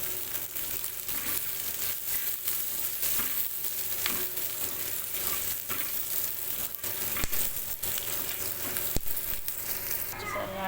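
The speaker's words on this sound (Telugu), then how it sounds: "ఆయిల్ని కొంచెం హీట్ అవ్వనివ్వాలి ఈలోపు మనం కట్ చేసి పెట్టుకున్న టమాటా పచ్చిమిర్చి ముక్కలు అయితే వేసుకోవాలి అయితే ఆనియన్ని మంచిగా వేయనివ్వాలి" Onions, tomato and green chilies fry in hot oil in a pan for an egg fry, giving a steady, dense sizzle with scattered crackles and scraping throughout, close and fairly loud, with no talking.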